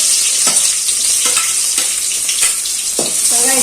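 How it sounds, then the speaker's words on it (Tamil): Onions sauté in a pan for an okra fry, a loud continuous sizzle close up, punctuated every second or so by the scrape and knock of a stirring spoon; nobody speaks. "வெங்காயம் கொஞ்சம் நல்லா வதங்கட்டும்."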